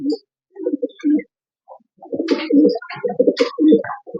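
Racing pigeons coo close by in repeated soft, throaty rolling phrases, with a few brief higher chirps and rustles mixed in and short gaps between calls.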